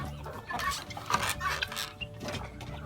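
Soft, low-level clucking from several chickens close by, in short repeated bursts with some faint clatter in the background.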